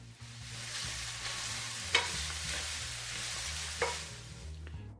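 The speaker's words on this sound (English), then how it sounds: "brown the meat evenly all around." Pork tenderloin strips, salted, browning in a pan with a steady sizzle, stirred now and then, with two sharp utensil clinks against the pan.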